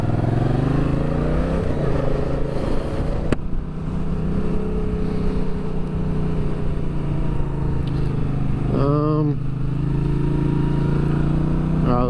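A motorcycle rides a foggy road with a steady, low engine drone and rumble, close and loud, joined by gusting wind noise against the microphone and a brief pitch swell near the end.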